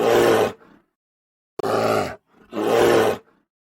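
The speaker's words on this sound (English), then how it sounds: "Correct! It's a bear! The bear says, grr, grr." A bear growling: three loud, rough roaring growls spaced about a second apart, each lasting roughly half a second, close and alone with no talk.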